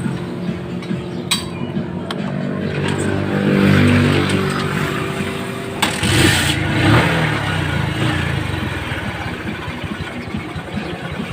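A motorcycle engine fitted with a new spark plug starts and runs loud and close, swelling into a rev around the middle before settling back toward a steady idle, with no talk.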